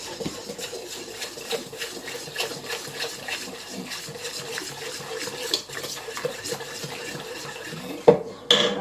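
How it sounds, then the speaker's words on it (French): A whisk stirs a bread dough mixture of liquid, yeast and flour in a bowl, giving a steady run of soft scraping and light metallic clinks, close and repeated, with no talk. "Vous mélangez bien au fouet."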